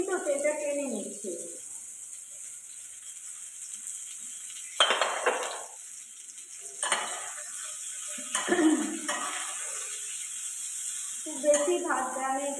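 Eggplant sautéing in a small amount of oil in a pan: a steady high sizzle throughout, broken by intermittent stirring scrapes and clinks of a utensil against the pan, with a voice speaking now and then.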